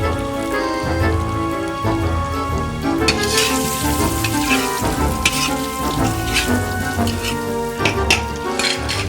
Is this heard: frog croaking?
no